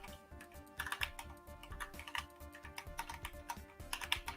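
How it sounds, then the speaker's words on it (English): Rapid typing on a computer keyboard, with dense irregular key clicks running continuously at close range, quiet overall and with no talking. "sometimes typing on this keyboard is still challenging"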